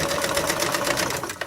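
A sewing machine stitches a fabric coaster in a steady rapid rhythm of close, even needle strokes, running alone without any talk.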